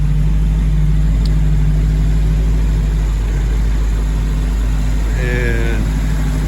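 A warmed-up 1968 Shelby GT500 KR convertible with a 428 Cobra Jet engine idles steadily with a low, even rumble, its clutch fan pulling air, loud and close throughout, with a brief faint chirp near the end.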